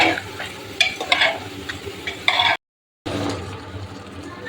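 Meat frying in a pan with onion, ginger and garlic paste, a steady close sizzle with stirring scrapes, cut by a brief silent gap before the frying resumes.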